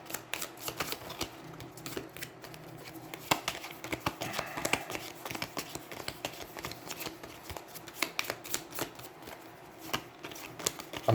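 A deck of game cards is shuffled during a solo session of the Aeons End board game, giving repeated crisp riffling bursts and snaps at an irregular rhythm, close and fairly quiet.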